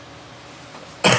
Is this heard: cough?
yes